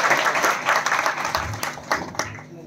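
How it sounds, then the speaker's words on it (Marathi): An audience claps to welcome a guest at a felicitation ceremony for a newly selected FSO officer in Shirala taluka, a burst of applause that thins and tapers into scattered claps. "सर्वांना विनंती आहे मामांच्यासाठी एक टाळी वाजवून स्वागत करायचं आहे"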